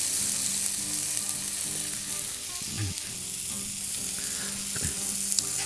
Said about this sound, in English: while those are cooking, let's place our buns onto the griddle